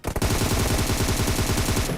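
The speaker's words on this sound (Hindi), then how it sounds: "अभी तो ये दबा के इसने गोली चलाई छत से" Automatic gunfire in the battle royale video game PUBG/BGMI, shot from a rooftop: a rapid, sustained burst of loud, evenly spaced shots that fills the whole moment.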